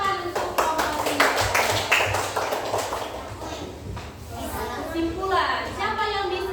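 Students in a classroom clap for a presenting group: a burst of quick hand claps through the first few seconds, then fading as a voice speaks over the room.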